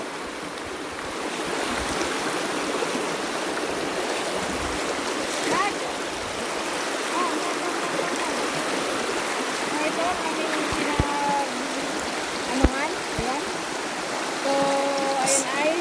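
A river rushes steadily as a broad, constant flowing wash close by, with faint chirps and a few small knocks rising above it.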